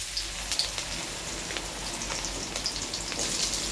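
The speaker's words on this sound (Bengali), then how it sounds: "তেল গরম হয়ে গেছে বন্ধুরা, এক এক করে আমরা সবজি দিচ্ছি" Carrots sizzling in hot oil in a wok for street-style egg chowmein, a steady crackling fry with scattered sharp pops, fairly faint and continuous, no voices.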